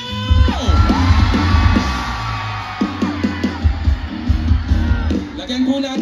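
Loud concert crowd yelling and whooping together in Manila during a show, a sustained roar of many voices with rising shouts and bursts, continuous throughout.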